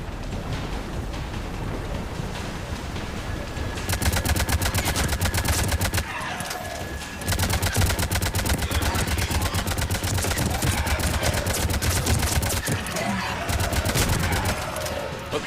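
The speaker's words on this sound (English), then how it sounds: "Commander, I've got enemy contact. Under fire." Dense, sustained gunfire fills a combat scene in the video game Mass Effect 3 Leviathan DLC, with rapid bursts layered over a loud background and brief lulls, while a voice speaks partway through.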